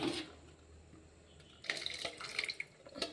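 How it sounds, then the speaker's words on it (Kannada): Quiet simmering hiss, then water splashes into a pot of tomato sambar with uneven bubbling and gurgling, close and moderately loud. "ಕುದೀಲಿ ನೀರು ಹಾಕೋಣ ಸ್ವಲ್ಪ ಬೇಕಂದಷ್ಟು"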